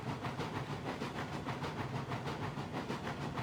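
Coal train carriages roll along the track in the Railroads Online game, a steady loud rumble with a regular clickety-clack pulse and hiss, with no talking.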